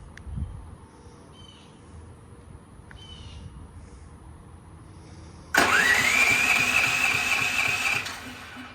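A Duromax XP13000HXT generator engine running on natural gas cranks with a battery charger attached, a low churning turnover that suddenly catches into a loud, steady running roar, then eases slightly near the end.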